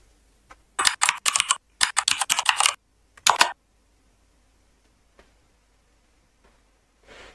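Quick bursts of computer keyboard typing as a search query goes in, close, crisp clicks in three short flurries, then near silence with a few stray taps.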